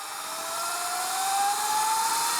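Sur Ron Light Bee MX electric dirt bike accelerating hard under an abrupt throttle, a close, rising electric motor whine that climbs steadily in pitch over a steady wash of wind and road noise.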